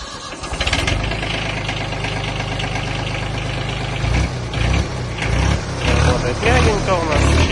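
Yanmar F145 Japanese mini tractor diesel engine idling close by, a loud steady low chugging hum with a brief revving change near the end.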